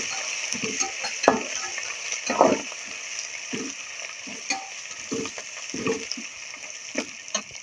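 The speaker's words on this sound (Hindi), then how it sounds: "अब हम लहसुन अदरक का पेस्ट शामिल करेंगे और इसका कच्चापन खत्म करेंगे।" Onions fry in a pan with garlic ginger paste, a steady soft sizzle under scattered stirring scrapes and taps, heard close with no talking.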